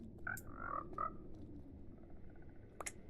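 Minecraft frogs croaking in a video game, a few short tonal croaks near the start and another brief call near the end over steady low background game noise, with no talk.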